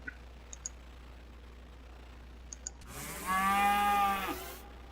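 A cartoon cow in the video game West of Loathing lets out a single loud, drawn-out moo after a few soft clicks, standing alone against quiet game ambience.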